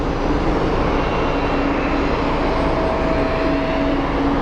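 An airplane's engines roar loud and steady at Sky Harbor International Airport, a constant close drone with a faint whining tone above it, and no voices.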